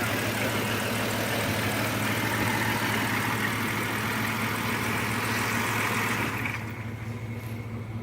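A 2003 Dodge Grand Caravan engine runs after fuel injector replacement, a steady close idle hum that continues evenly before easing slightly near the end.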